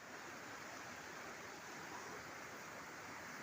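River water flowing steadily beneath a small footbridge at the edge of a village in a forest, a continuous broadband rush that stays even and close with no voices.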